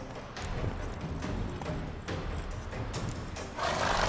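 A horse gallops in The Witcher 3, its rapid hoof clip-clops running under a dense, roaring wash of game ambience and score for several seconds.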